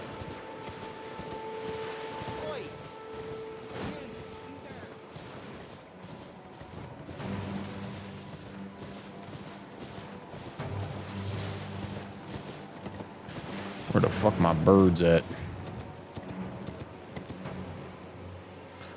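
A horse gallops in Elden Ring with a rhythmic clip-clop of hooves, mixed with game ambience and a loud burst of crashing impacts near the middle, while someone speaks briefly.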